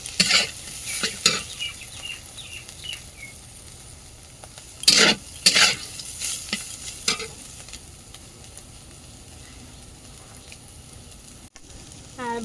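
Food frying in oil in a large pot in a village home kitchen: a steady, close sizzle with scraping stirs and a few louder spitting bursts, no voices.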